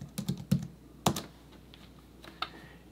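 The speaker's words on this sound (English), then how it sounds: "Let's see what else we can type in here." Computer keyboard keys tapped while setting up decorative text for a T-shirt design: a handful of quiet, scattered keystrokes in short clusters with pauses between, no voices.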